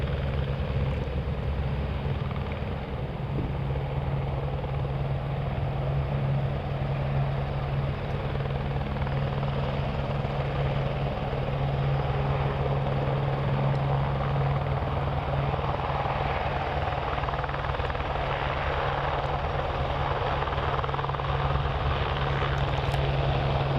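A 42-year-old aircraft, first flown in 1983, taxis out at Hawarden Airport toward its takeoff run, giving a steady loud engine drone with a constant low hum, sustained and unbroken, without talk.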